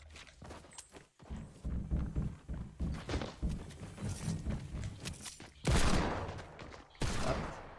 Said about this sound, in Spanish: ¿De dónde está disparando?